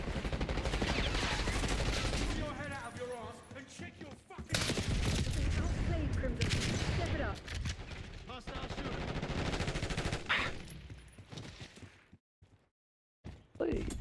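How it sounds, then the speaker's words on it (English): Rapid automatic gunfire rattles almost continuously in Black Ops 6 online multiplayer, in dense bursts with brief pauses and one short silence near the end. Players talk over the shooting. "I'm shooting at you"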